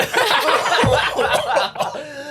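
A single short cough bursts out amid a busy, cluttered background, followed by a brief breathy sound, fairly close and moderately loud.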